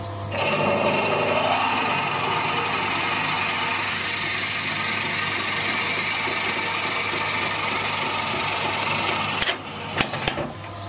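An 11.5mm drill bores steadily into a piece of wood with a continuous grinding whir for about nine seconds, then stops with a few brief clunks near the end.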